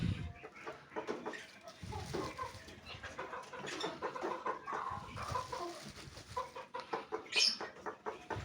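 Soft, repeated clucking from a broody Aseel hen close by, irregular short calls scattered over faint rustling, with one sharper squawk near the end.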